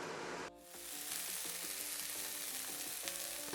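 Food frying in a pan gives a continuous close hiss and crackle for a few seconds, with a brief dip near the start before the steady sizzle returns, quiet overall and with nobody talking.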